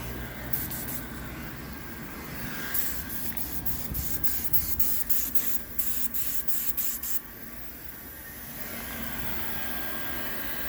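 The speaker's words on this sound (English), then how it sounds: "This is the first stage of the paint going on now." Spray gun applying the first stage of paint to a Tesla during a smart repair, heard as a run of short rapid hissing bursts in the middle of the clip over a steady workshop hiss, with no talk.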